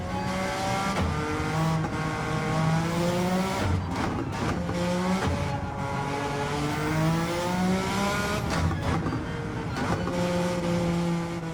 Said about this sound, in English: the whining of the transmission and that really cool sounding engine note, especially on board